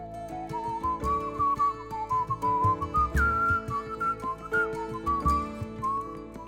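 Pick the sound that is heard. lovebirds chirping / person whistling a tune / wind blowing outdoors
person whistling a tune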